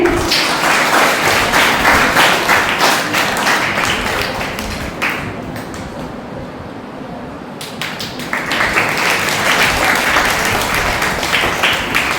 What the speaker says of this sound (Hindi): सभी तालियां बजाएंगे।